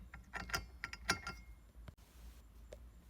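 A bolt threaded back into a steering wheel hub during a racing seat and steering wheel install, giving a few close metallic clicks and ratcheting clinks in short bursts, then a quiet stretch with one last faint tick.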